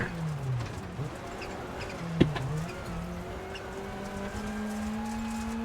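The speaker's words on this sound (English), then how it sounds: "The turbocharger chirping." A rally car's turbocharger chirps and whistles in EA Sports WRC, with rising and falling tones over steady engine drone and one sharp transient midway.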